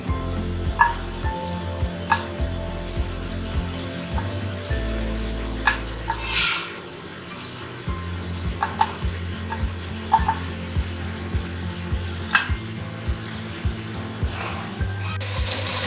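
Yogurt goes into a pan of frying masala for chicken korma, giving a moderate sizzle with intermittent clinks and stirring scrapes and a brief watery pour, no voices.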